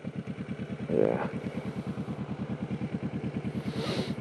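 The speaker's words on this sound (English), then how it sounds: "So that's the motorcycle." A motorcycle engine pulses steadily and close while riding through traffic in Taiwan, with a brief louder burst near the start and a rising hiss toward the end.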